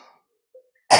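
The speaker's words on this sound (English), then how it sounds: "My cough is back." A single short, sharp cough bursts out near the end after faint breathy sounds and near silence, close and clear, in a church worship setting.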